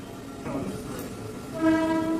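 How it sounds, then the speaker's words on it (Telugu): A passing train rumbles at a distance, then its horn sounds a loud, sustained blast near the end. "ఒక సెకండ్ అక్కడ ట్రైన్ వెళ్ళిపోయి కార్తీక్."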